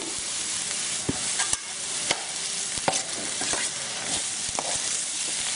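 Potato samosa filling with onion, turmeric and spices is stirred in a hot pan: a steady close sizzle with repeated scraping and tapping strokes of a spoon, no voices.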